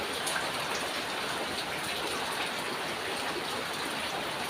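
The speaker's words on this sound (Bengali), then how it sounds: "এই যে বৃষ্টি হচ্ছে" Steady rain falls outside, a dense even hiss of drops that stays constant throughout, close and alone with no voices.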